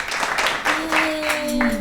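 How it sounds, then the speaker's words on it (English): Brief applause from a small group of kids after a classroom demonstration, with voices talking over the clapping and a tonal hum running underneath. "Round of applause for Holly."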